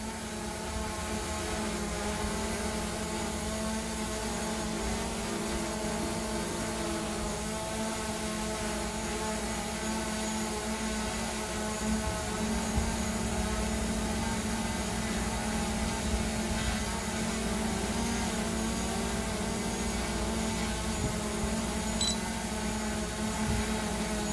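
DJI Mavic Pro drone hovering outdoors in strong wind, a steady buzzing propeller whine with layered tonal hum running continuously at close range, wind noise mixed in, no talking.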